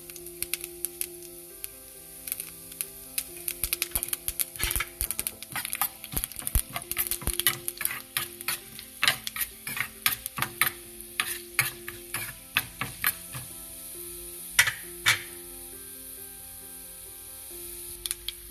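Urad dal, mustard seeds, cumin and hing sizzle in hot oil with steady crackling and sharp popping as the seeds burst. A spoon stirs through the pan, and the sound carries on for the whole stretch with no one talking.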